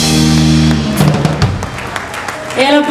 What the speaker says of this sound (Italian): E l'applauso è arrivato grande, meritato.